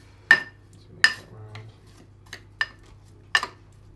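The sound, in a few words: mixing soggy cheesecake base with boiling water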